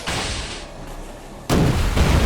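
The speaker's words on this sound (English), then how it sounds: "We could also launch a torpedo, so you guys can see the torpedo mechanics here." A destroyer launches a torpedo in the Order of Battle: Kriegsmarine naval strategy game, giving a loud, sustained blast with a heavy low rumble that swells again into a second burst partway through.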